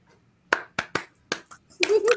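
A few separate hand claps land sharply at uneven intervals, close and fairly quiet, followed by a brief voice.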